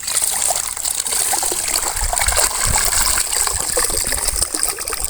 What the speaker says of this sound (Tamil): நம்ம கீரைகளை அலசி எடுத்துக்கலாம்